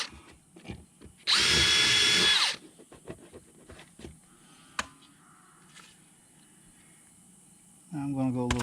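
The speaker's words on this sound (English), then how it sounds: "we're going to pop rivet it on" A power drill boring a hole for a pop rivet during a navigation unit install, one loud close whir lasting about a second, followed by quieter handling clicks and a second brief whine, with a voice in the background.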